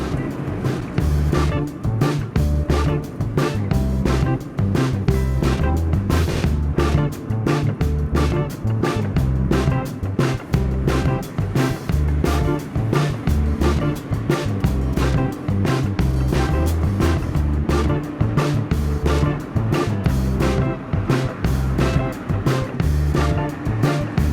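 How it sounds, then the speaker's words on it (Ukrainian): Car driving through town in Portugal on the way to another petrol station, with a continuous road and engine rumble and irregular thumps throughout at steady loudness. "Зараз я їду на іншу заправку, тут у нас неподалік близенько."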